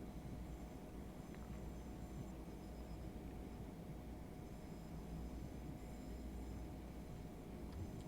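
Class 465/466 electric multiple unit running on the Southeastern network in Train Simulator Classic, a constant low rumble of wheels and motors heard from the cab, steady and faint, with occasional light squeal and no talking.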